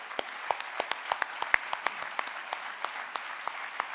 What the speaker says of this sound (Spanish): Y eso se merece un aplauso, sí señor.